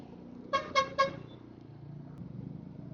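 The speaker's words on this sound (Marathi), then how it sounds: "लोकांना किती हॉर्न दिले ना तरी जाणारच." A motorcycle rider on a bike trip to Alibaug gives three quick, close horn honks in traffic over a low road hum, with no talking.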